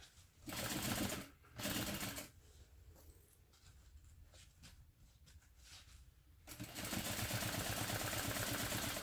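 A sewing machine stitches fabric beside a clip that holds the layers together, running in two short bursts near the start, then a longer quiet stretch, before settling into a steady, loud, continuous whir for the final few seconds.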